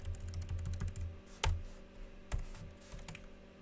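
Python code being typed on a computer keyboard: a steady run of close, light key clicks with a couple of louder thumps, no talking.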